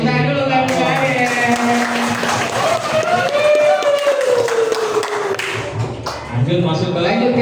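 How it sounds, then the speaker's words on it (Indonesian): A classroom audience at an Islamic primary school event, MI Al-Munawaroh, claps in a steady patter of many hands, mixed with voices and children calling out over the applause. "Tepuk tangan dulu kamu Adel."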